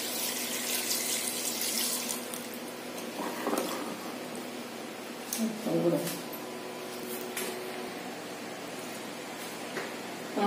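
Water pours from a tap into a pot of chickpeas for chole, a steady rushing stream with some splashing and shifting surges, while a person talks over it.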